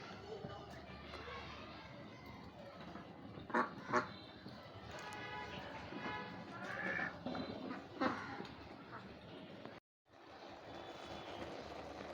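Ducks roam and quack in an open village yard near Savar on the edge of Dhaka, with a pet cat nearby; scattered bursts of quacking rise over steady outdoor ambience, with a person talking and a brief dropout near the end.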